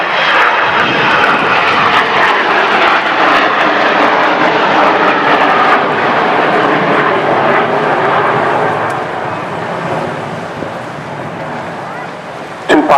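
The Avro Vulcan XH558 jet bomber roars overhead at the Eastbourne airshow, a loud, broad engine howl that swells and slowly fades, with a voice talking over it.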